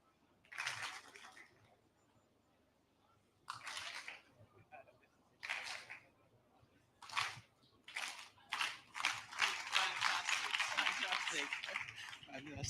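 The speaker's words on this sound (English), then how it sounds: "When I throw a fist, you will clap." An audience at an African international housing show claps on cue in several short, loud bursts separated by pauses, ending in a longer, sustained round of applause.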